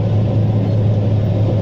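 Diesel engine of a 120K motor grader clearing brush beside a curve, a loud, close, steady low rumble straining under heavy load.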